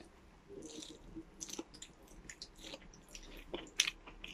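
A bite of cooked cauliflower chewed close up, faint soft squishy chewing with a few small crunchy clicks, quiet and intermittent.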